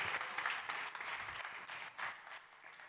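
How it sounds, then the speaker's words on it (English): Audience at a startup pitch competition at South Summit applauds a presenter, a steady, even wash of many hands clapping, faint and distant, lasting a few seconds with no speech. "A big round of applause for the man with the shoes, Alvaro Bernabe from Imperia"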